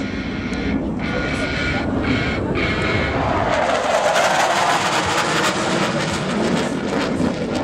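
RMAF Smoking Bandits jet flying inverted at an air display, a loud continuous roaring rush of engine noise that swells and sweeps past, filling the whole clip.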